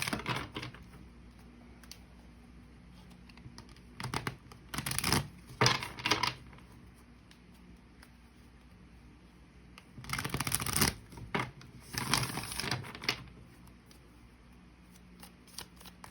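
Tarot cards being shuffled in short bursts, a riffle and some flicking, then quiet handling before a longer shuffle near the end; close and fairly soft.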